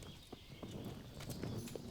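Horse hooves clip-clop in a steady walking rhythm, moderately close and fairly quiet, with no talking over them.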